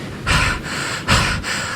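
Heavy panting after a sprint up and down a watchtower, close and loud, with rapid ragged breaths in a steady rhythm of about four pulses.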